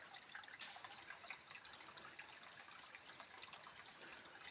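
Water flowing in a creek makes a steady, close trickling and babbling wash that stays at an even level throughout, with no voices over it.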